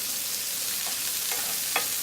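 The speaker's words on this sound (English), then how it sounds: "Nothing like sauteed onions." Onions sautéing in a pan give a steady, close frying sizzle, broken by a few soft stirring scrapes near the end.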